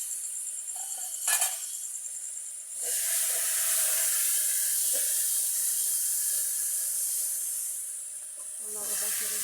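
Green chillies dropped into hot oil with a cumin tempering give a loud, steady hiss that swells after a brief clatter and holds for several seconds, close and continuous.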